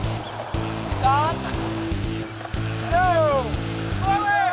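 River rapids rush and churn constantly around a raft, a loud, continuous wash of water heard beneath voices shouting paddling commands.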